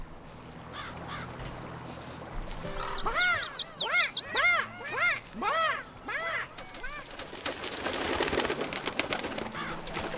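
Birds cooing and cawing as they are fed corn in the Pirate101 video game, a cluster of overlapping calls in the middle of the stretch over a steady ambient bed, moderately loud.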